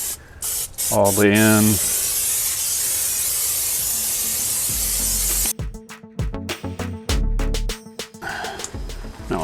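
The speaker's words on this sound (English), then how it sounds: "got a little canola oil. We're gonna spray this thing down good." Canola oil sprays in a long steady hiss inside a Char-Griller 980 gravity-fed grill, close and continuous, with short bursts of talk before it and rustling metal clatter afterward.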